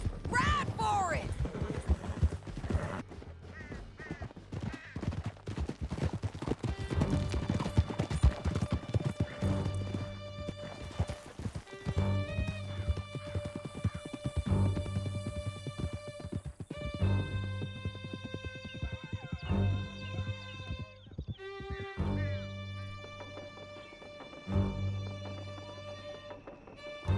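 Horses gallop in Red Dead Redemption 2 during a canyon chase, with steady clip-clop hoofbeats and an occasional whinny under a loud orchestral score and some voices.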